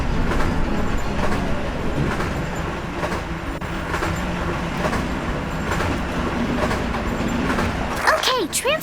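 A moving train in the Phineas and Ferb: Across the 2nd Dimension video game gives a steady, loud rumble with rhythmic rattling throughout, and sharp chirping effects come near the end.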